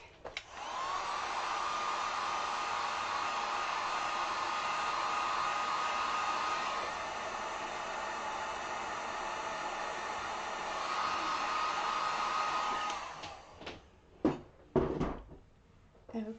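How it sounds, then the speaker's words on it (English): A heat gun dries acrylic paint on a tulip umbrella sign, blowing a steady close whoosh for about thirteen seconds, then switching off, followed by a few brief knocks and handling sounds. "I'm going to throw the heat gun on this just real quick"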